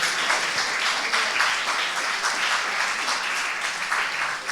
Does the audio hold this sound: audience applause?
yes